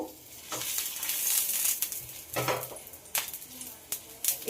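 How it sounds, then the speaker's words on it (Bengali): Rolled paratha slapped into hot white oil in a frying pan, giving a steady hissing sizzle broken by light clinks and scraping of a utensil against the pan, close and moderately loud. "এই গরম তেলের উপরে বেলে রাখা পরোটা দিয়ে দেব।"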